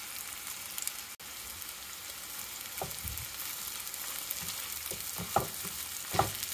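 Onions frying in a pan while making poha, a soft steady sizzle with a few louder stirring scrapes and clinks toward the end, no voices.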